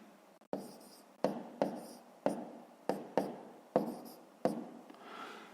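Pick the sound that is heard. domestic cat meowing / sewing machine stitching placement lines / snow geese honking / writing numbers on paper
writing numbers on paper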